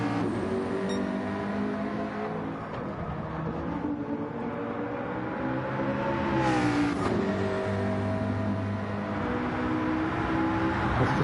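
Race cars roar around Laguna Seca in Gran Turismo 7 with a loud, continuous engine drone. Pitch shifts as the cars accelerate, brake and run side by side.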